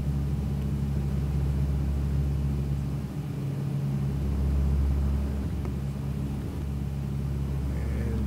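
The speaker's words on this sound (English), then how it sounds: "This is a Dash 8 landing in Calgary." Dash 8 turboprop aircraft landing in Calgary, a steady low droning engine rumble with a constant hum that swells slightly midway, heard from a distance without talk.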